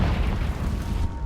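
A Confringo blasting spell from Hogwarts Legacy goes off as a loud, sustained boom, a dense low rumble that holds through the whole moment before easing slightly at the end.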